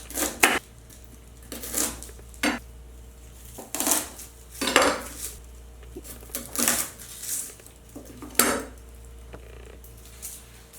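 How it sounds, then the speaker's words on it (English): Chopped celery, parsley, garlic and onion are tossed into a bowl for a smoked venison bone broth, heard as a series of close, irregular clatters and scrapes of utensils against dishes, with no one talking. "we're just gonna throw all of that right into our bowl"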